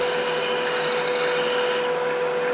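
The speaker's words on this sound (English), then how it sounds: "do the last little bit with sandpaper" Sandpaper rubs smooth the joined wood segments of a segmented turned box, giving a continuous, close, dry scratching that holds steady throughout with no talk.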